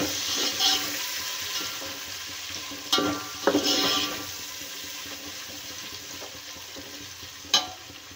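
Tomatoes frying in a pan while being stirred, a continuous soft sizzle broken by a few sharp scraping clicks of the spoon against the pan.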